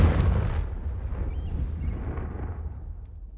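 A Confringo blasting-curse explosion in the Hogwarts Legacy video game bursts loudly and close, then its deep rumbling tail fades over a few seconds.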